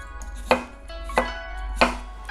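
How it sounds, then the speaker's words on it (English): A knife slices a cucumber diagonally on a cutting board, giving three crisp, evenly spaced chops close up with quiet pauses between them. "you slice it, we need the long pieces, so we're gonna slice diagonally"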